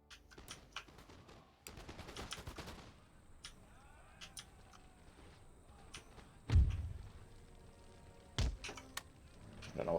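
Scattered musket volleys and single shots crack across a battlefield in the strategy game Empire Total War, mostly distant with a few louder booming reports.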